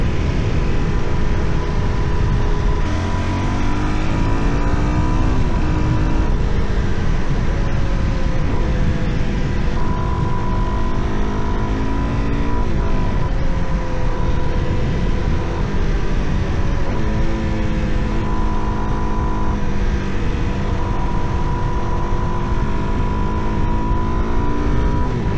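A 2025 Suzuki DRZ4S motorcycle engine drones continuously while riding, revving up and down through gears with steady wind noise, close and loud throughout.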